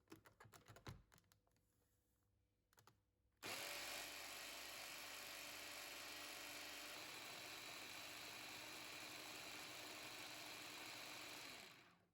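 An electric hand mixer churns cream into Indian white butter on high speed, a loud steady whir that starts abruptly after a few quieter seconds of clatter and runs unbroken to the end.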